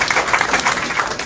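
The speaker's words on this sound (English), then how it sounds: "Can we applause our leaders once again?" A crowd at a political gathering applauds its leaders with steady, dense clapping throughout a brief stretch, fairly loud and without pauses.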